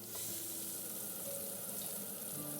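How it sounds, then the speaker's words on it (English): Steak in a pan basted with butter sizzles in a steady, dense hiss with no pauses, loud and close throughout. "I baste the steak with the butter"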